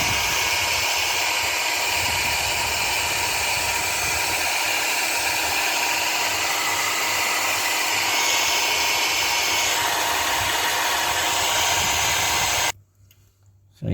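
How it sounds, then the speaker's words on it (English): A hair dryer blows steady hot air onto a fencing foil blade during a rewire at a fencing club, a continuous close, loud whooshing roar that runs for about thirteen seconds before cutting off abruptly. "That's just the heat coming from the hairdryer."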